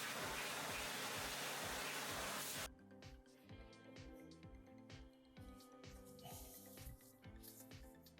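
Water rinses wheel cleaner off car wheels as a steady broadband hiss for the first few seconds. It then stops abruptly, leaving a quieter background with a rhythmic mechanical pulse.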